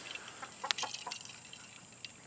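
Backyard chickens clucking softly in a few brief, scattered calls, fairly faint and a little nervous, with no one talking.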